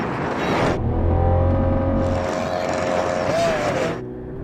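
A Ferrari 488 Pista, Lamborghini Aventador SV and 800hp Porsche 911 Turbo S drag race, engines roaring loudly as they launch, with a sustained high-revving drone that drops off at the end.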